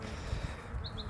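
A ginger bumblebee buzzes briefly among plants outdoors, a faint steady hum that sits low in the surrounding ambient noise.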